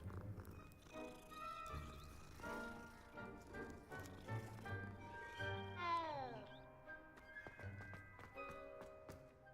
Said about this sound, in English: Why is there just a cat here?